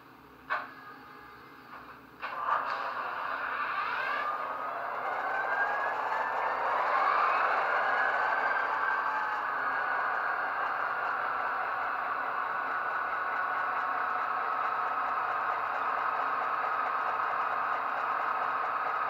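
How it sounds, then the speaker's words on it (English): A Rapido F40PH2D model diesel locomotive with an ESU LokSound decoder starts up: a few clicks, then a rising engine rumble that settles into a steady idle drone, with no one speaking. "apply track power so you can hear the startup sequence if there is one on this locomotive"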